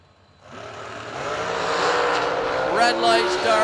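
Race Tech dragster from Middletown, New York launching at a drag strip event, a loud engine roar building within the first half second and holding steady and close, with a rising pitch sweep near the end.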